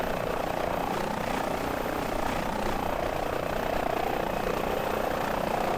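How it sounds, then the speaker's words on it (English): An Airbus H145 helicopter holds a steady auto hover in Microsoft Flight Simulator 2020 over Las Vegas, a continuous, loud rotor and turbine drone with a constant even pulse and no speech over it. "auto hover is now activated. So the aircraft will just sit and hover there now."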